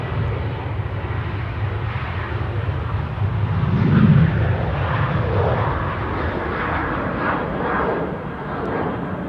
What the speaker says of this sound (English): This is KLM Flight 1971 to Lickety Split in Croatia, 737-800